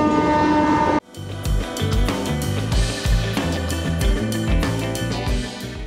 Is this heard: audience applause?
no